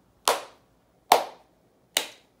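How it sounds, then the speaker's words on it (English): Three single hand claps, crisp and close, spaced about a second apart with short decays and silence between them. "how about we start with clapping?"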